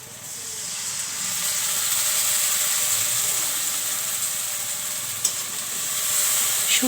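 Mixed spices and dried fish sizzle in a hot pan for a cauliflower curry, a loud, steady frying hiss with a couple of brief clinks, close by and with no talking.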